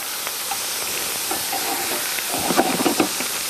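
Tomatoes hit a hot pan with shallots and garlic for a chicken fricassée, giving a close, steady steamy sizzle, with scraping stirs and a few louder crackles toward the end.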